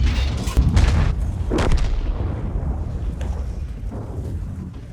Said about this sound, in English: Okay, high explosive. Boom.